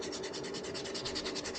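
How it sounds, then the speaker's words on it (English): Steady, dry rasping of sandpaper rubbed back and forth by hand on a wooden swimbait lure, a fast even rhythm close by with no talking. "So the whole bait will get a good sanding."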